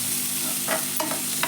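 Stirring and sautéing in a pan while cooking avarakottai kuzhambu, with a steady close sizzle and a few quick scraping stirs of a spoon against the pan.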